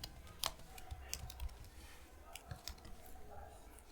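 A computer keyboard is typed on in short, quiet bursts of key clicks while a Java program is written, close but faint.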